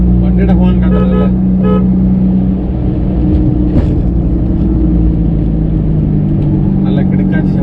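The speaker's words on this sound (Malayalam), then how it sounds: "നല്ല കിടക്കാച്ചി ഹോണല്ലേ." A Honda City VTEC Type 2 sounds its windtone horn in a loud, sustained tonal blast that then fades into engine rumble, with someone talking over it.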